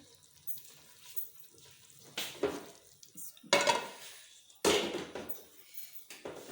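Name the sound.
cooked keema transferred into another pot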